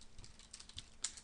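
Quiet keystrokes tap on a computer keyboard as a command is entered at a terminal, a few soft, irregular clicks close by with no talking.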